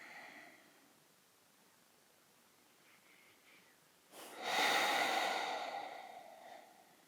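A single long, breathy exhale rises out of near silence during a seated yin yoga twist, a soft sigh of air lasting a couple of seconds before fading.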